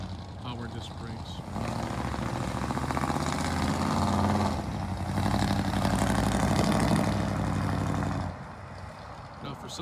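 A 1957 Chevrolet Bel Air with a 327 V8 rated at 360 horsepower idles with a low, steady rumble, someone talking over the engine for most of the stretch.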